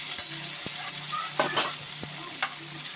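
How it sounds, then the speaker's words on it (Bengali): Paneer fries in a pan with a steady close sizzle, punctuated by several sharp scraping and tapping stirs of a spatula. "মোটামুটি ভাজা হয়ে গেছে এবার আমি পনিরটা তুলে নেবো"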